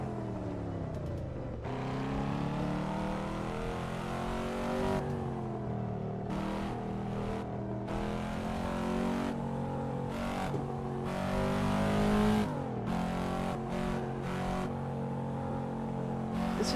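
Volvo S60R engine in Assetto Corsa, heard from the interior on a no-hesitation traffic server: a steady, loud engine drone with harmonic layers that repeatedly climb and drop through gear changes, alone with no talk.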